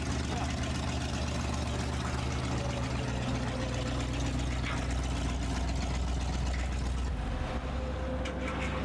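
Engine of a 1959 Chevy Napco 4x4 pickup idling, a steady low rumble throughout with faint talking over it and a brief dip near the end.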